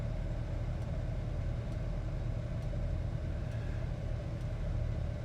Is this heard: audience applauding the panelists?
no